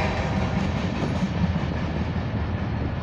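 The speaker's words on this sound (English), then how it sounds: "That was the shortest train ever." A short freight train rumbles past close by, a steady low roar of rolling wagons with faint rhythmic clatter throughout.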